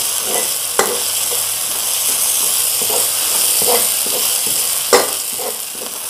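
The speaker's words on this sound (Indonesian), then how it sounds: "Petai ditumis begini, wah luar biasa banget nih." Petai beans being stir-fried in a pan, a loud, steady hissing sizzle with a few sharp spatula knocks and scrapes against the pan, close by.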